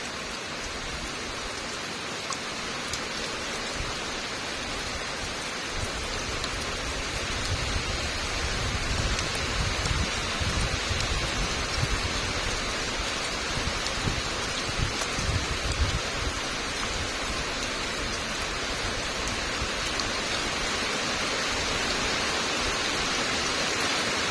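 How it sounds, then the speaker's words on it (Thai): Steady rain pours down outdoors as a constant broadband hiss, fairly loud and unbroken throughout, with no voices heard. "ฝนตกแล้วทั้งเสียงฝนมันตก"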